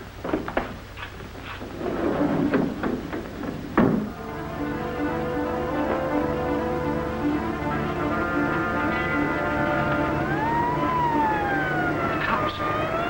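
A wailing police car siren from a 1938 film serial swells to a sustained, loud rising and falling tone, preceded by a few thuds and scuffling noises.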